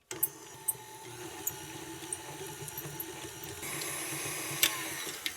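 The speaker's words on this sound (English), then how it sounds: "First thing into the stand mixer is some butter, and we're going to cream that until it's light and fluffy." Stand mixer creaming butter, a steady low motor hum with a faint whirring texture and occasional light clicks and taps, close and moderately quiet, no talk.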